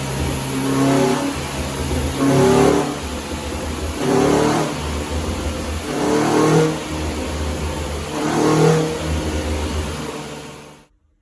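A tuned Renault Clio 182 on a rolling road dyno revs in repeated rising and falling bursts, its mid-pitched engine note climbing and dropping about four times before cutting off abruptly, loud and close with no talk.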